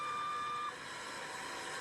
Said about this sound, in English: And of course these guys have backup alarms too.